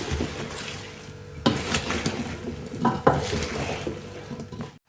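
A spoon stirring cucumber salad with garlic and dill in a bowl, giving wet scraping and clinking knocks against the bowl, with a few louder bumps, close up and without talk.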